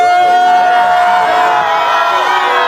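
Cheering crowd at a stadium concert, a dense roar of many voices with whoops and shouts, loud and sustained throughout with a steady high tone running beneath.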